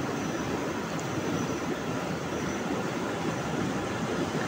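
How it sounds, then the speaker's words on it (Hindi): Floodwater surges down the Koyal river near Lohardaga, a steady, loud broadband roar of rushing water that holds constant from start to finish, with no voices over it. "और ये देखिए दोस्तों पानी का खतरनाक लहर"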